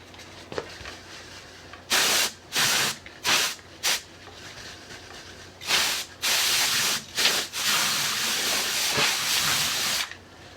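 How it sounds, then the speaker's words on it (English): Short and longer blasts of canned air hiss loudly while dust is blown off a Sam Coupe computer, coming in about eight separate bursts with quiet gaps between them. "I want to just give this a quick little blow off"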